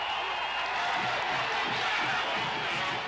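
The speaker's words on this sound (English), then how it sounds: "You hear the roar, and that's coming over from the Shelby side. They're applauding their defense." A high school football crowd, Shelby fans in 1989, roars and applauds their defense: a steady, broad wash of cheering and clapping heard from a distance that stays loud throughout.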